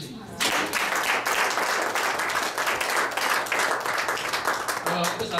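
A church congregation bursts into sustained applause, dense clapping from many hands that fills the room, with voices mixed in beneath.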